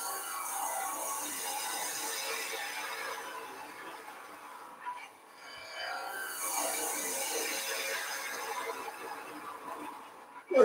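Skew chisel taking heavy cuts on wood spinning on a wood lathe, a loud rasping, scraping hiss that dips briefly midway and resumes, with no talk.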